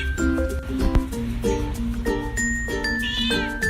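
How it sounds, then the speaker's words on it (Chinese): A pet cat meows in short, repeated cries over a backdrop of tonal music with chime-like tones, the calls fairly close and mixed with the playful background melody. "喵喵。"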